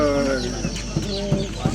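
Chickens in a village cluck in short, repeated bursts, near and moderately loud, beneath a person speaking French.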